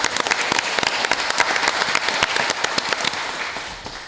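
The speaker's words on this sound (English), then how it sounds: "let's give her an applause" Audience applause at a city council meeting, steady moderate clapping from a modest crowd with distinct individual claps throughout, continuing for several seconds.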